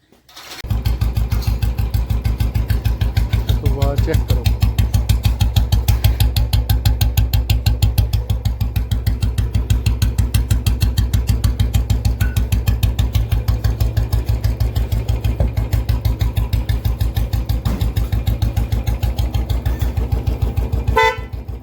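A motorcycle parked outside starts up and runs at a steady, rapid thumping idle, loud and close for about twenty seconds, with brief faint background sounds.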